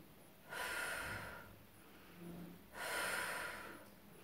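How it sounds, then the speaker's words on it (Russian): Two loud, breathy exhalations rush out a couple of seconds apart, with a softer breath between them, close and quiet otherwise. "Вдыхаем мы через нос, выдыхаем с шумом через рот."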